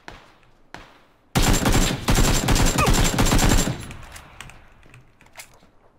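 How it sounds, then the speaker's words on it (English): Gunfire in the battle-royale game PlayerUnknown's Battlegrounds: a few isolated shots, then a loud, dense burst of rapid automatic fire lasting about two seconds that trails off into fainter scattered shots. "definitely getting shot at"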